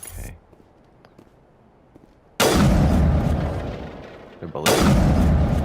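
Sniper rifle fire in the video game Mass Effect: two loud, close booming shots a couple of seconds apart, each with a long decaying tail, preceded by quiet background sound.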